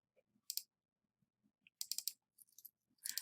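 Computer mouse clicking in mapping software, sharp quiet clicks scattered in clusters across an otherwise silent background.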